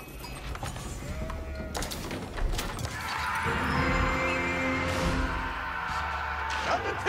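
Sheep bleat in Age of Empires 4 as villagers gather food from the flock during a Mongol siege of Kiev, several bleats over a busy game soundscape with steady background noise.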